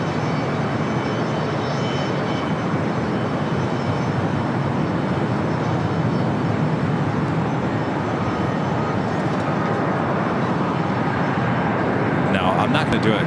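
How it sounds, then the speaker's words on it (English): A United Dreamliner jet arriving from Tokyo Haneda rolls down runway 25 right at LAX, a broad, steady roar of engine and rushing noise, distant and unchanging in level, with talk faintly over it. "the United Dreamliner. We'll be rolling down 25 right."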